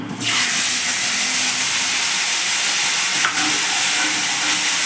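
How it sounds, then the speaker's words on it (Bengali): A paste of cumin, turmeric and Kashmiri chilli mixed with water hits a hot pan for a vegetarian potato and pointed gourd dish, bursting into a loud, continuous close-up sizzle that holds steady to the end. "এবার আমি জিরে হলুদ আর কাশ্মীরি মির্চের যে পেস্টটা জল দিয়ে গুলে রেখেছিলাম সেই পেস্টটাকে ঢেলে দিলাম"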